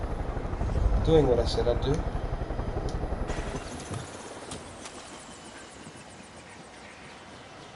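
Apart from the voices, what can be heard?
helicopter flying and landing in video game Far Cry 5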